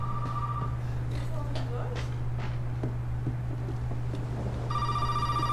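An old telephone bell ringing in Resident Evil 7, a repeated electronic trill at the start and again near the end, over steady game hum with scattered faint clicks between.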